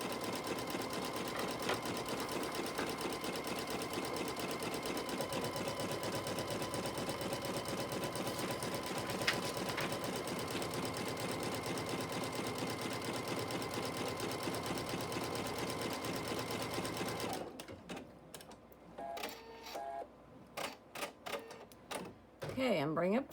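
A home sewing machine fitted with a freshly installed needle hums steadily and continuously with a rattling, slightly uneven mechanical tone while piecing a flying geese quilt block, then stops and gives way to scattered short clicks and handling sounds.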